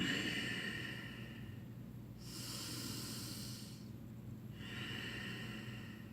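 Slow, deep belly breathing is heard close up: a long breathy inhale followed by an exhale, then another breath starting, each a soft airy rush separated by a quiet pause.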